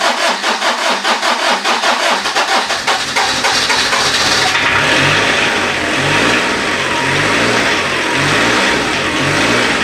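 A rebuilt 1-litre turbodiesel Daihatsu Charade engine cranks in rapid pulses, catches, and settles into a loud, steady rattling run with rising revs, close by and with no talk.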